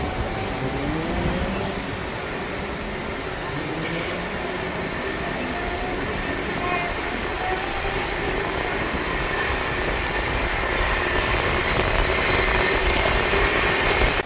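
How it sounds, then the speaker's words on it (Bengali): A Kolkata to Puri passenger train pulls out of the station and gathers speed, with a steady rumble of wheels on rails, faint squeals and clatter rising slowly across the whole stretch, close and continuous with no talk. "বলতে না বলতেই আমাদের ট্রেন ছেড়ে দিল এবং আস্তে আস্তে তার স্পিড ধরে নিল।"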